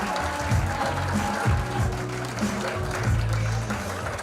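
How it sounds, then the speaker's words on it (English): A live stand-up comedy crowd claps for a comedian taking the stage at a semi-final, a steady moderate roar of applause with some low crowd murmur underneath. "So let's get it going. We got Troy Bain on first, so let's start clapping."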